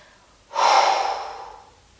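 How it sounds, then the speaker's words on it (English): A single deep inhale during a Pilates lower-body and core workout, a close, breathy rush of air that swells quickly and then slowly fades out. "So it goes, breathe in."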